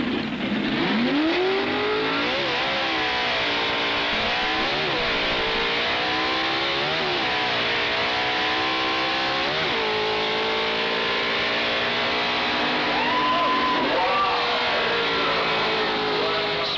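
A 1960s Ford drag racing car revs hard and launches off the line at a drag strip, its engine roaring loudly with repeated rising and falling pitch sweeps as it winds up through the gears, close and continuous.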